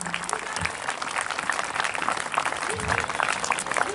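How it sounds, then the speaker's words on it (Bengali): Sustained audience applause at a Bengal karate colour belt gradation ceremony, dense steady clapping filling the whole stretch at even loudness. "সবাই একটু হাততালি দেবে ওনাদের জন্য।"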